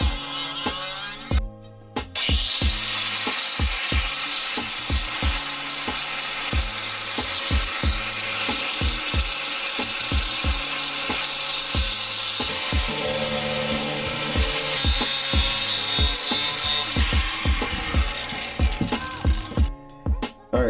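A power tool trims a cheap Nissan 350Z headlight housing, giving a loud, continuous high-pitched whine with rapid rattling pulses, close up and running almost nonstop for about twenty seconds.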